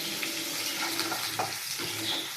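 Small onions, crushed small garlic and small chilies fry in hot oil for a pepper tomato kuzhambu, a steady close sizzle with faint stirring and no talk.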